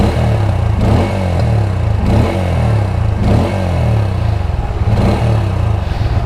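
A Bajaj Pulsar N150 motorcycle engine is revved repeatedly close up, several rising throttle blips spaced about a second apart over a steady idling base.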